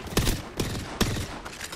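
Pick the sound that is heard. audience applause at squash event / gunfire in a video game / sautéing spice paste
gunfire in a video game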